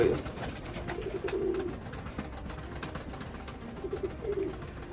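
Pet pigeons give soft, low cooing calls close by, in two short bouts separated by a quieter stretch of faint rustling.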